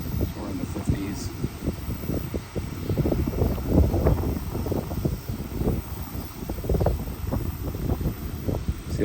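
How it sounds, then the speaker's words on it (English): Wind blowing outdoors at a rocky shore lined with chip and riprap, a steady rumbling gust buffeting the microphone throughout, close and continuous. "the wind is literally blowing it further out to the rocks"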